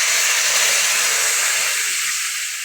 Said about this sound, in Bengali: এখানে প্রথমে কেটে রাখা মিষ্টি আলু এবং গোল আলুটা দিয়ে দেব কড়ায়। দিয়ে অল্প জল দেব